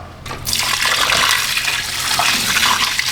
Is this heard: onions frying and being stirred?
no